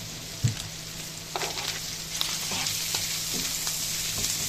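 Food fries in a pan with a steady sizzle while it is stirred after black pepper is sprinkled on, with a few soft scraping knocks of the utensil among the continuous hiss.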